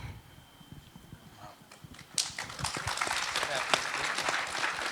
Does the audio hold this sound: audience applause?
yes